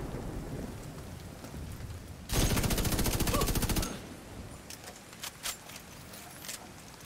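Rapid automatic gunfire from a weapon in The Division 2 rips out in a loud, sustained burst of about a second and a half, followed by a few scattered single shots over low ambient noise.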